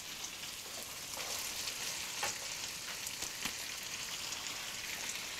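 Prawns and cabbage stir-fry in a hot pan for Malaysian Hokkien mee, giving a loud, continuous sizzle with occasional stirring scrapes and crackles and no talk.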